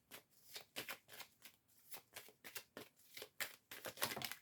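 Tarot cards being shuffled by hand at close range, a rapid series of crisp riffling bursts in an irregular rhythm, growing slightly louder toward the end, with no voices.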